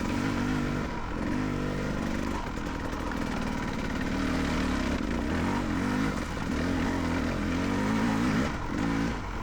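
A Beta 300RR dirt bike fitted with an OXA Factory Black Edition silencer runs at low RPM, its engine producing a close, loud, steady raspy drone with slight swells in pitch and no pauses.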